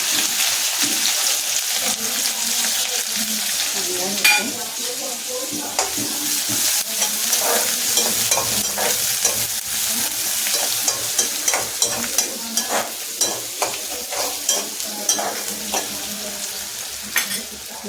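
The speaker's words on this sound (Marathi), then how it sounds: "हे करून झालं की मस्त तेल घातले. हां आता कांदा घालते." Chopped onion sizzles steadily in hot oil as the base for a crab curry. Close clicks of stirring come through now and then over the continuous frying hiss.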